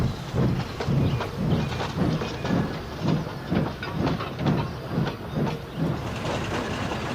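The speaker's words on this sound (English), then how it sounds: "Sandy watched as the yellow bullied Pacific pulled out of the yards towards the main line" A yellow Bulleid Pacific steam locomotive pulls out of the yards toward the main line, its exhaust chuffing in a steady, even rhythm of about two beats per second over a continuous hiss and rumble.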